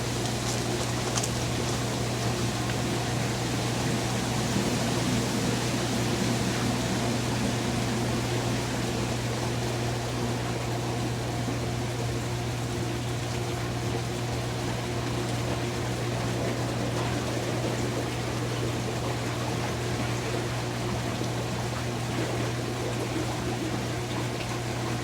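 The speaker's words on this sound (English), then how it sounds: "now we got the water filling back up" Water refills a commercial pool after a DE filter cleaning, a steady dense rush of flowing water over a constant low pump hum that holds unchanged throughout.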